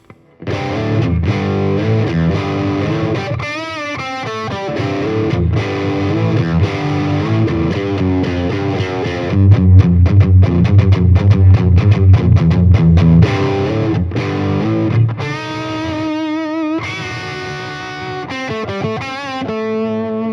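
Heavily distorted electric guitar through a Fender Champion 40 amp on the British yellow high-gain setting with a little reverb, playing chords and riffs, loud and continuous with no voices.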